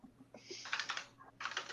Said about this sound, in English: And I'm tapping on my keyboard.